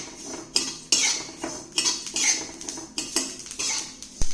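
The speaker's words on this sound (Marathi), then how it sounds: "तीळ भाजत असताना पटपट कढई गरम झाल्यामुळे पटपट हलवावे लागते" Sesame seeds roasting in a hot kadhai, stirred briskly with a metal spoon: repeated scraping sweeps and clinks against the pan in a quick, uneven rhythm, close up and without voices.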